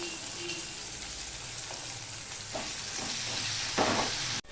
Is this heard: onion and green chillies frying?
yes